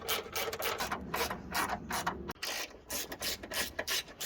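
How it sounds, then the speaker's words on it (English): A ratchet clicks steadily in short bursts, close and alone, as bolts go in while a Jaguar XF Sportbrake is being reassembled. "Okay, I'm going to put some bolts in."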